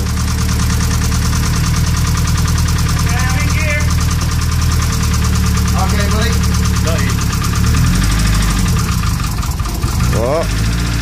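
A Nissan S13 engine run for the first time after four years in storage, idling loudly with a steady rumble and lifter clatter, while people talk over it throughout.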